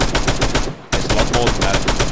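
Loud rapid automatic gunfire in the military shooter game ARMA, dense bursts of shots that pause briefly near the middle and then resume.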